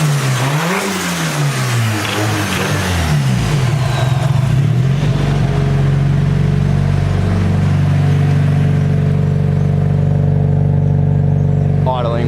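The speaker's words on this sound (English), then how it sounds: "Idling way too high at the moment." A Nissan S14 drift car engine with a slight tick revs, then settles into a high, steady idle with a droning hum; a person talks over it near the start.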